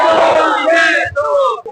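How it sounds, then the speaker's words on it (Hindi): Dense election campaign crowd at a Shiv Sena rally yelling together in a loud, sustained chant of overlapping voices that drops out briefly near the end. "यहाँ पे बहुत सारे लोगों की भीड़ इकट्ठा है"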